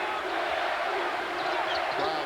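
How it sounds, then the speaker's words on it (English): Arena crowd at an Arizona State Sun Devils men's basketball game in 2008, a steady roar of hollering fans filling the whole clip with no gaps, loud and continuous. "Crowd trying to give some lip to the Devils, but they can't play the game."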